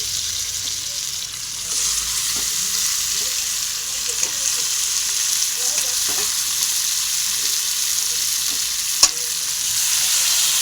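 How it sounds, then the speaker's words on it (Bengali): Washed chicken pieces fry and get stirred in hot oil in a home kitchen pan, giving a steady sizzle with scattered scraping stirs and a sharper clack near the end, with no talk over it. "এবার এখানে দিয়ে দেবো ধুয়ে রাখা চিকেনগুলো।"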